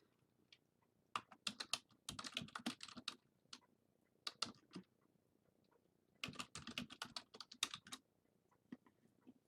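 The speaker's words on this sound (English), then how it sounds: "when I did that typing and I changed the title" Quick clattering keystrokes on a computer keyboard come in two dense bursts separated by a pause, close and clear with no talking.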